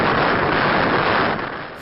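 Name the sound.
powerful tornado wind gusts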